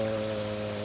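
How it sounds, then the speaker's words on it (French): Rain falls steadily on a rainy day in the Stardew Valley video game, a dense, even hiss of drops under a constant low hum, with no talk. "Ça a beau être un jour de pluie"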